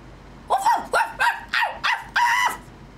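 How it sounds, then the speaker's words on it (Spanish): A small dog like a chihuahua barks six times in a quick, fairly even series of high, sharp yaps, close and clear against a quiet background. "Parece un chihuahua."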